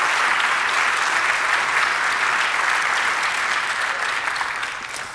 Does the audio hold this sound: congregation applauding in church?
yes